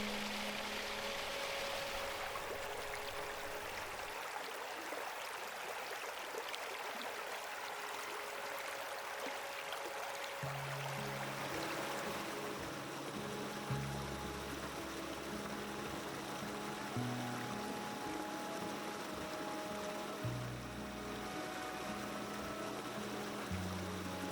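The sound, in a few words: brook water flowing in winter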